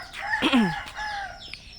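A rooster crows loudly and close on a rural garden farm, a single rising and falling call with hens clucking faintly around it and no talking.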